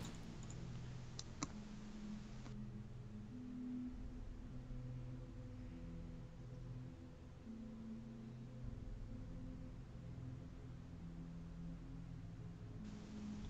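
Keyboard keys click now and then while typing at a computer during a game session, a few sharp clicks early on over a steady, low humming background that runs throughout.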